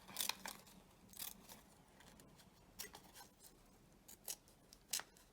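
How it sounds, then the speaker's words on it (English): Scissors snip around a paper fashion illustration in a run of short, close cutting strokes with quiet pauses between them. "I'm actually going to cut around the arms."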